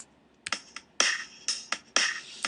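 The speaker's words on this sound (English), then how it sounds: "One octave higher," Drum loop in the Renoise tracker played an octave higher, giving quick, sharp, snappy hits in an uneven pattern, crisp and fairly quiet with no voices.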